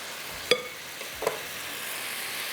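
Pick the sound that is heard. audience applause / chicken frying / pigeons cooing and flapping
chicken frying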